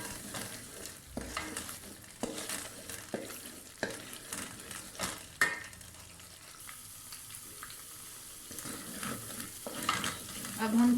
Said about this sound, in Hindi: ये हमारा प्याज फ्राई हो रहा है।